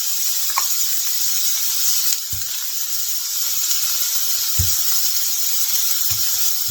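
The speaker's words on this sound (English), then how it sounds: "The sizzle." Steady sizzling hiss of burger patties frying on a hot grill, constant and close, with a few soft knocks and clicks now and then.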